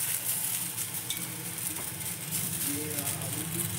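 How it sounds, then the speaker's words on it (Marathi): A spoon stirs bitter gourd bhaji with fresh coriander in a pan, giving a soft steady sizzle with light scraping and occasional utensil taps, close and continuous. "हलवून घेते मस्त."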